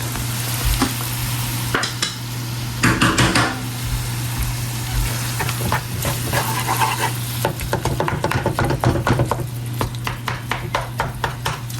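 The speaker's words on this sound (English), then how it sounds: "Pop the ground turkey in." Ground turkey sizzling in a wok with onion and garlic, a steady fry under repeated stirring and chopping scrapes of a utensil against the pan that quicken toward the end.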